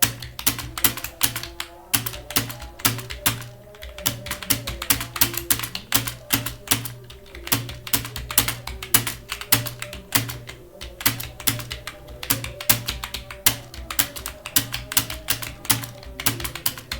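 Computer keyboard typing practice for a police computer operator class, with rapid, continuous key clicks in an irregular rhythm, close and alone without speech.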